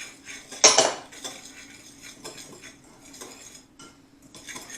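Coconut flour, erythritol, salt and baking powder being stirred together in a bowl for keto lemon sandwich cookies: a sharp clatter of utensil against bowl, then lighter scraping clinks that recur irregularly, close and clear, with no talk.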